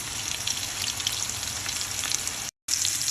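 Garlic cloves cut into small pieces fry in butter in a pan, giving a steady, close crackling sizzle with light stirring noise and a brief dropout near the end; no one speaks.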